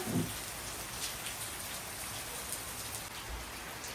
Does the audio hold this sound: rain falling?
yes